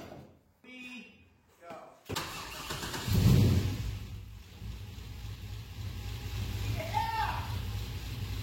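A brief voice is followed by a car engine that has been running rough, cranking with a sudden burst of noise, then a low rumble that keeps going steadily.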